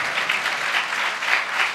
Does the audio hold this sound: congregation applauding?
yes